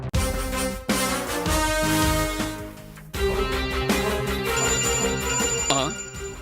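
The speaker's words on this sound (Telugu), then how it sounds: "అరే, రింగ్ ఇంట్లోకి వెళ్ళి వస్తున్నట్టున్నది." A mobile phone ringtone plays loudly and close, a bright melodic tune of repeating tonal phrases with brief breaks between bursts, sounding alone without speech.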